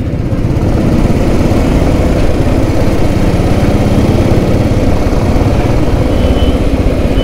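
A Royal Enfield Thunderbird motorcycle engine idles loud and close, a steady, continuous low thumping rumble with no pauses or talk.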